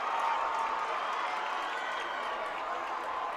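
A high school football crowd cheers and claps loudly in the stands, a dense sustained roar of voices and applause throughout.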